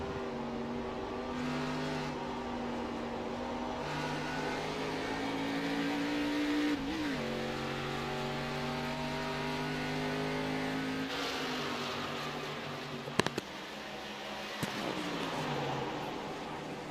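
Several race cars in the iRacing sim racing game at World Wide Technology Raceway diving into turn 1, a dense, steady engine drone with pitch shifts as they brake and accelerate, plus a couple of sharp ticks near the end.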